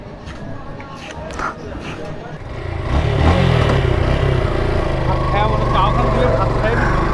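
A Suzuki Gixxer motorcycle's engine runs after a new oil seal is fitted, idling at first and then revving up into a louder, steady roar that holds close by.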